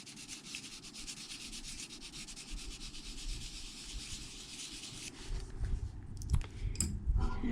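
Pastel being blended over watercolor on paper, a steady close dry rubbing and scraping that runs continuously, growing rougher and more uneven toward the end.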